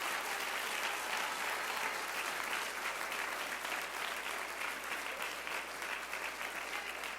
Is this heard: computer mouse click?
no